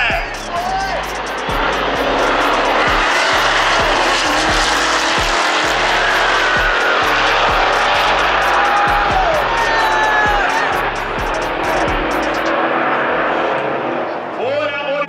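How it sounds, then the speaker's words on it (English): Two Dodge Hellcats roll-racing side by side down a drag strip, a steady loud engine roar holding for most of the span with whining passes and faint tire noise, fading out near the end while a crowd murmurs underneath. "here's the big race. Hellcat on Hellcat"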